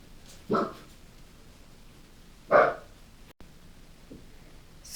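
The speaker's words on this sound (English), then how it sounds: "Sorry, my dog started barking." A single dog barks twice from another room, each bark a short loud burst about two seconds apart, with a fainter yip afterward against a quiet indoor background.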